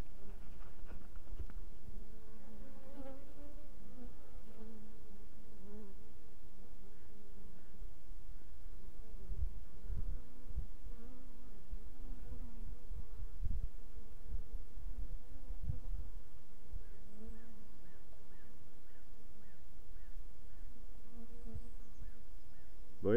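Honey bees buzz steadily around a beehive where foragers return loaded with pollen, a dense continuous hum that stays close and fairly even throughout with no talking.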